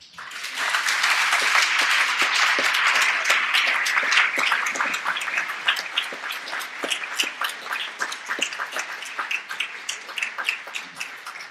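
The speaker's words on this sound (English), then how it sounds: "That was a pretty warm round of applause, wasn't it?" A warm round of applause from an audience welcoming a new acting director for a city program, dense clapping that holds steady for several seconds before thinning into scattered individual claps.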